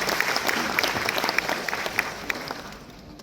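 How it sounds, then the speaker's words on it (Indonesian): Audience applause for a moderator at an Urban Talks event in Jakarta, a dense crowd clapping steadily at close range, then thinning and fading out near the end. "Mari kita berikan tepuk tangan untuk moderator kita."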